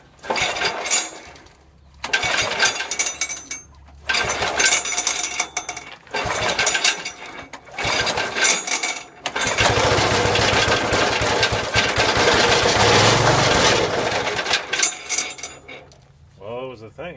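A Roto-Hoe chipper's small engine is cranked in a series of short, loud bursts, then catches and runs steadily for several seconds before dropping away.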